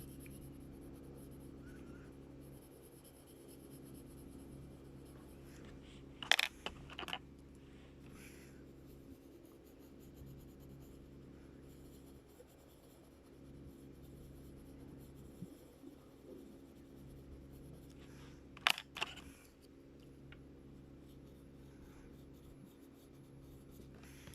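Red colored pencil shading on paper, worked from dark to light tones: a faint steady scratchy rubbing under a low background hum, with a couple of brief louder knocks.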